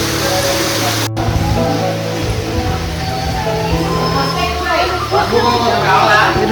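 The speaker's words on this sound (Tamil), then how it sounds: "ஒரு குட்டி ஃபால்ஸ், ரொம்ப அழகாக இருக்குது." A small waterfall beside the Tirupati footpath rushes as a steady, broad wash of falling water, close and continuous, with people talking over it.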